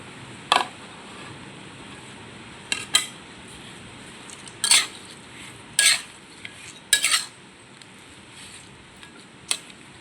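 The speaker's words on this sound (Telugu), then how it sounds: "ఇప్పుడు కొత్తిమీర చట్నీ వేద్దాం" Coriander chutney goes into a hot tempering with asafoetida in a pan. Several sharp metallic clinks and scrapes of a spoon against the pan are spaced over a quiet background.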